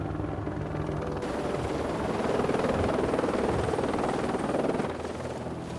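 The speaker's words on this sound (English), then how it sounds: "we really do now have to bring the helicopter in with stone from the other side of the bend" A helicopter flies in carrying stone for repairing a mountain path, its steady rotor thud and engine whine loud and continuous, swelling slightly as it draws nearer, with no talking.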